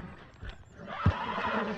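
A Turkoman horse in the video game Red Dead Redemption 2 gives a brief whinny amid hoof clops and a busy, rising background wash.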